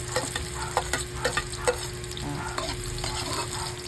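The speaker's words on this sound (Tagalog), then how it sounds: "Maggisa na ta. Bawang. Sunod tayo ng sibuyas." Garlic and onion sautéing in a hot pan, a close, steady sizzle punctuated by sharp clinks and scrapes of a spoon stirring in quick bursts, with no voices.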